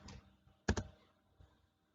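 A few keystrokes on a computer keyboard while working in budgeting software: one faint tap, then a louder close double click, then a soft later tap, with no talk.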